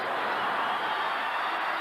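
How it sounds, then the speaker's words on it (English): Hockey arena crowd at a 1988 NHL game between the Flames and Islanders, a dense, loud, continuous roar of many voices chanting through the final seconds. "And the crowd happily chanting down these final seconds."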